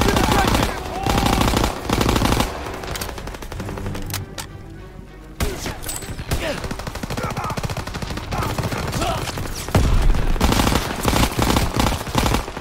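Rapid machine-gun and rifle fire in the Call of Duty: WWII video game, loud sustained bursts with brief pauses, under game music and someone talking.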